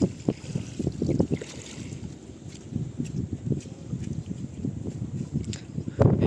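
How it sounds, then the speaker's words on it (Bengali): Strong wind buffets a boat out on the Padma river, gusty rumbling bursts against the microphone with water and hull noise underneath, steady and close throughout. "তো অনেক জোরে হাওয়া হচ্ছে"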